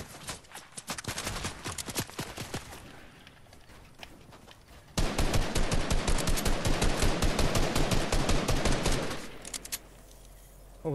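Rapid bursts of gunshots ring out in quick rhythmic volleys, first a loose run of shots, then a louder, tighter stretch of sustained automatic fire before it cuts off.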